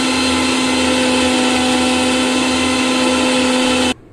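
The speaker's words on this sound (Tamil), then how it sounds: "நான் ஒரு மிக்ஸி ஜாருக்கு மாற்றி நல்லா அரைச்சி எடுத்துக்கிறேன்." A mixer grinder jar whirs loudly as it grinds soaked urad dal and rice, a steady close motor drone that runs unbroken and then cuts off abruptly near the end.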